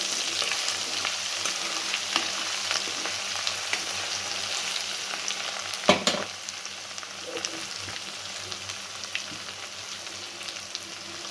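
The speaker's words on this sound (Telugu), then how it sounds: "ఈ స్పూన్తో ఒక స్పూను అల్లం వెల్లుల్లి పేస్ట్ వేసాను దాంతో ఒకసారి తిప్పుతాము" Chicken pieces fry with ginger garlic paste in a pan for pickle, a steady close sizzle stirred throughout, with one sharp knock of the spoon midway and no talk.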